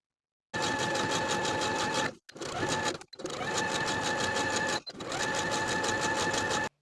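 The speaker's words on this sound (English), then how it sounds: "using a twin needle, a cover stitch machine, or your regular sewing machine and a triple zigzag stitch" A sewing machine runs a triple zigzag stitch along the bands of homemade underwear in fast, steady bursts of rhythmic stitching, pausing briefly three times between runs; close and loud, with no talking.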